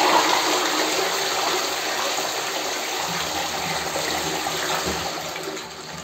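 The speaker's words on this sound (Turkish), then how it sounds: "sifonu çekiyoruz." A toilet flushes with a loud rushing gush of water that gradually tapers off, close by.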